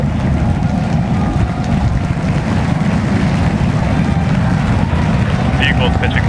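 SpaceX Starship rocket engines roar at liftoff, a dense unbroken low rumble like heavy wind, loud and sustained throughout with no clear voices.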